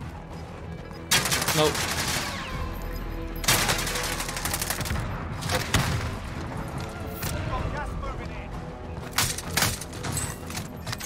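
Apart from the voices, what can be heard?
gunfire in Warzone video game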